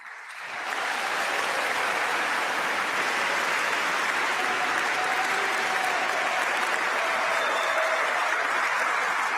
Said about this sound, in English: A standing ovation and thunderous applause from the assembled guests here in Oslo City Hall.